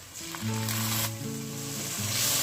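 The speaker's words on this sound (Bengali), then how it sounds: "আদা রসুনটা দেওয়ার পরে আমি বিশ থেকে পঁচিশ থেকে আমি ভেজে নেব" Ginger and garlic paste hisses loudly as it hits hot oil in a pan, a close, continuous sizzle with a low tonal hum underneath and no talking.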